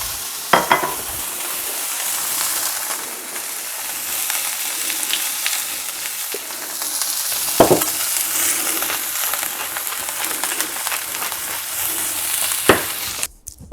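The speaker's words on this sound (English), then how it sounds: "I'm just going to cook that steak straight into that hot fat and just leave it there undisturbed for about 3 minutes." Bavette steak searing undisturbed in hot fat in a pan, giving a steady, loud, close sizzle that runs throughout with a few sharp clatters and no talk.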